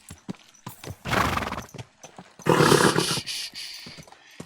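A horse in the video game Kingdom Come Deliverance 2 gallops with rapid clip-clop hoofbeats and lets out two loud, close neighs, one after the other.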